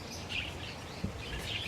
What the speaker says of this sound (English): Look at these birds.